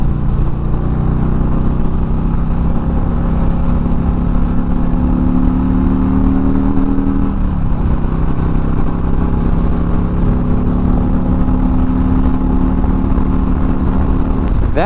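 A Harley-Davidson Freewheeler trike with a Milwaukee-Eight 114 engine cruising at speed, its loud, steady engine drone mixed with heavy wind rush, with a brief dip in pitch midway as it shifts.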